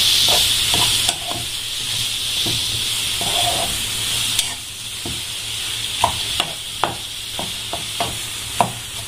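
Mango and ginger sautéing in oil for a pickle, a continuous hiss of frying with a run of sharp spoon clicks and scrapes against the pan toward the end, close and steady.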